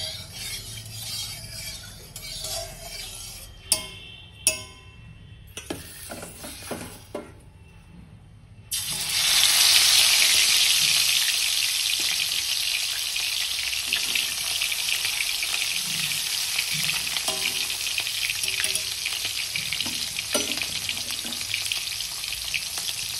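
A thin fish curry with potatoes cooks in a pan, giving a loud, steady frying sizzle that runs without a break for the second half, after a quieter stretch of scattered kitchen clatter and knocks.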